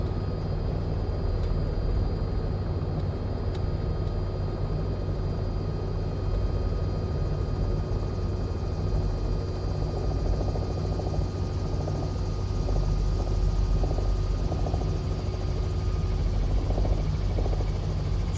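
A CowanSim R66 helicopter in Microsoft Flight Simulator 2024 makes a steady, loud turbine whine over a dense rotor roar that holds constant throughout, with slight rhythmic flutter later on.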